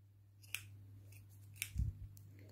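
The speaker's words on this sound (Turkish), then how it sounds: "Şöyle ipimi uzunca kesiyorum buradan." Scissors cut knitting yarn for a hand-knit sweater: two quick, crisp snips about a second apart in a quiet room, followed by a soft low thump.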